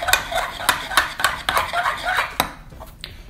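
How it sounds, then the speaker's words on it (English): A spoon scrapes and clacks rhythmically against a bowl as amaranth is mixed into sea moss gel, a quick series of close, bright knocks and scrapes with no talking. "So now we have the amaranth, and you just go ahead and mix it"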